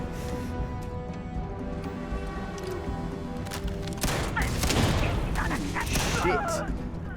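Gunfire from a weapon in Starfield, rumbling shots and booms that swell loudest near the end over a layered game soundscape.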